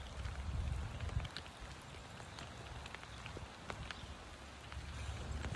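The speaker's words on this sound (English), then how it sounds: "It's raining right now outside." Rain falls outside, a steady, moderately soft patter with scattered sharper drops landing close by. The sound holds for several seconds, and nobody speaks.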